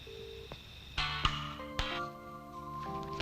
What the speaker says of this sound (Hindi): अपन उसे फोन करने वाला है।